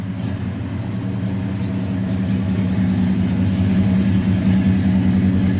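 A 1967 Oldsmobile Cutlass 442 with matching-numbers engine idles steadily through its exhaust, a deep, loud, even rumble with a lumpy low pulse that holds throughout, with no voices.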